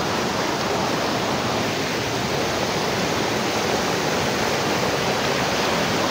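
Loud, continuous rushing water roars close by near a set of stairs, a dense unbroken wash of noise with no pauses and no voices.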